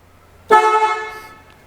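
Horn of a Knight Rider KITT replica car wired through an aftermarket wire, giving one loud blaring honk of about a second that fades out, heard up close in a quiet garage.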